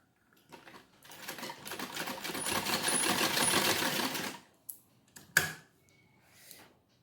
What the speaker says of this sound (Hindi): अब हम इसको ऐसे ये कुर्ते का कपड़ा हटा के इस तरह सिलाई लगा देंगे।